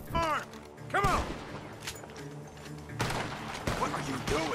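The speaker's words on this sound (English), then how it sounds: "Gunshots are coming from that barn!" Gunfire rings out in the Red Dead Redemption 2 video game, with several sharp shots spaced a second or so apart and a voice talking excitedly between and over them.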